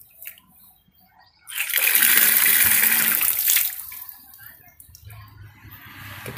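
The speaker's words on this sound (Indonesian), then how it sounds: "Ketika keran dibuka, tekanannya akan terlepas lagi, jadi mengalirkan air lagi." Water gushes from a tap opened on a booster pump system, a strong hissing flow that starts abruptly, runs for about two seconds, then tapers off, with a low mechanical hum after it.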